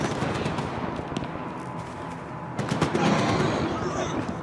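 Bursts of rapid gunfire crackle in the background in STALKER 2, with scattered shots and brief automatic volleys, moderately loud and continuous.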